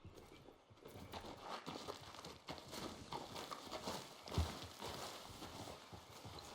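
Horse hooves clip-clop at a walking pace in Red Dead Redemption 2, a soft, continuous rhythm of steps heard at low level with faint ambient noise.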